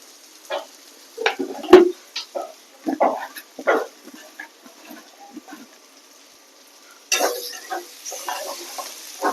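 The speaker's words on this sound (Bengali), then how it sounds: "চিনি দিয়ে আর একটুখানি কষে নিলাম" Goat fat and sugar fry in a pan with intermittent spatula clatters and scrapes over a faint sizzle, and a brighter burst of frying near the end.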